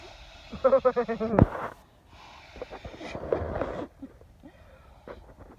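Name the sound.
breaths blowing up an inflatable Neo Air sleeping pad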